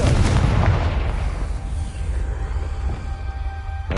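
Confringo blasting spell going off in the game Hogwarts Legacy, a loud booming explosion with a heavy low rumble that decays over a few seconds into a lingering roar.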